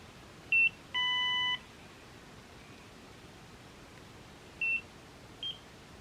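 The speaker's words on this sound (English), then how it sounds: "I heard the beep showing that it worked" A Nira skincare laser gives short electronic beeps: a brief tone, a longer held chime, then two more brief beeps, clear and isolated against faint hiss.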